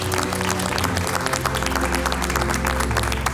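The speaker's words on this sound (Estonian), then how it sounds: "teeme suure aplausi" A crowd applauds with dense, steady clapping, mixed with a low hum of voices and background music.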